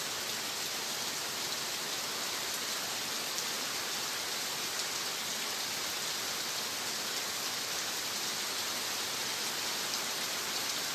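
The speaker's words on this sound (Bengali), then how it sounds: "মুষলধারে বৃষ্টি হচ্ছে, একদম ফাটাফাটি" Heavy monsoon-style rain pours into a house yard in front of the main door, a dense, constant roaring hiss of downpour with no pauses and no voices.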